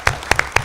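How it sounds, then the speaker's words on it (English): Brief applause for a girls' division softball championship team, a few sharp hand claps in quick succession, close and fairly loud, lasting under a second. "So I actually want to give a little round of applause for them right now."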